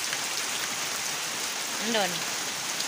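Heavy rain pours in a steady dense hiss, close and loud, with a brief spoken word rising over it midway.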